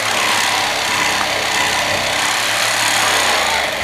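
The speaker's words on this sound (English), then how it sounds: "taking footage of my dad using this sawzall" A reciprocating saw cuts out screws during outdoor pond construction, giving a loud, continuous buzzing rattle that holds steady and close throughout with no pauses.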